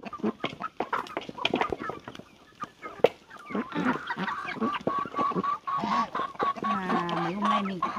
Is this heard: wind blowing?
no